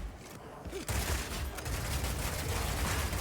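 Rapid gunfire from the Rapid Shot skill in the video game Path of Exile 2, a dense, continuous fusillade of quick shots at moderate volume that rolls on without pause after a brief quieter lead-in.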